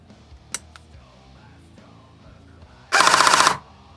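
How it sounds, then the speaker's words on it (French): An airsoft Kestrel ETU-equipped gun fires one short full-auto burst, a loud, sharp rattle lasting under a second after a quiet stretch with a couple of faint clicks. "Je vais m'en remettre en rafale complète."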